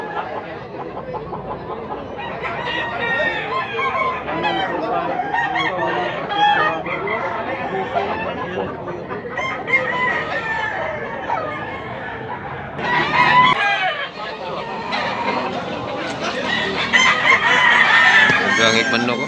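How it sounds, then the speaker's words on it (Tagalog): Black Hennie gamecocks at a busy rooster market in Tabunok, Cebu crow and cluck among a crowd, overlapping calls rising and falling across the stretch, loudest near the end, with people talking throughout. "Napakagandang manok"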